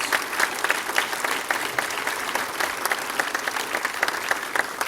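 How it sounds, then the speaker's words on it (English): A city council chamber audience gives a round of applause, many people clapping at a moderate, fairly even level with individual claps standing out in a lively, slightly uneven rhythm. "I think it is worthy of our recognizing that just with a round of applause."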